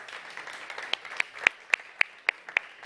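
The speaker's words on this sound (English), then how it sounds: "Please give a warm applause for Carles Marcos y Guardia." Applause breaks out at a startup conference panel, made of sparse individual claps spaced at a steady rhythm that stand out against a soft background of further clapping.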